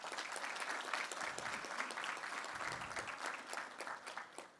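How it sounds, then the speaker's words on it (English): Faint, fairly sparse applause from a symposium audience acknowledging sponsors, individual claps audible in an uneven patter that tapers off near the end. "So if you would please join me a round of applause for all these sponsorships."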